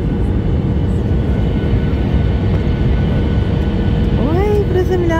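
Steady, loud airliner cabin roar fills the whole stretch as the plane descends to land with flaps extended on a flight to Chania, Crete, with a brief voice-like trace near the end.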